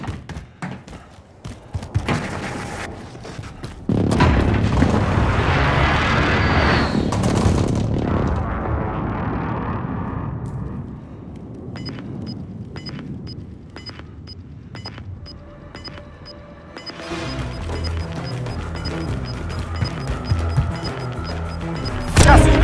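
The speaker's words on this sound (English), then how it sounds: "Enemy precision airstrike." Precision airstrike explosions in Call of Duty: Modern Warfare land as a series of heavy booms and crashes, with loud rumbling blasts, scattered sharp impacts and gunfire-like cracks spread across the stretch, ending in a final loud hit.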